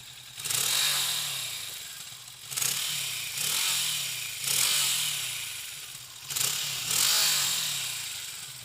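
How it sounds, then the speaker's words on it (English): A 2016 Kawasaki Vulcan S with stock exhaust revs repeatedly in short bursts, each throttle blip rising and falling back to a burbling idle, close by. "Let's see if we can get down here and let you guys hear this stock exhaust."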